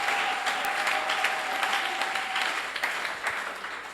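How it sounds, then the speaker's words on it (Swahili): A church congregation claps for the Lord in dense, steady applause that fills the whole stretch, loud and even with no speech over it. "kwanza pigia kweli Bwana makofi"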